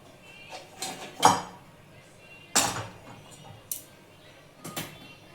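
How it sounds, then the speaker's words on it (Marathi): A metal kadhai is set down on a stove with a sharp clank, among several other clinks and knocks of kitchenware spread out over a few seconds in a quiet room. "त्याच्यावर कढई ठेवूया"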